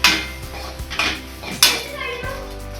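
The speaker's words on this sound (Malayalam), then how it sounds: "ചൂടായ ഒരു ചീനച്ചട്ടിയിലേക്ക് കഴുകി വൃത്തിയാക്കിയ അരി നമുക്കിട്ടൊന്ന് വറുത്തെടുക്കാം." Washed rice being dry-roasted in a hot Kerala-style iron pan, with several sharp metal clanks and scrapes of a spoon stirring the grains, close and loud.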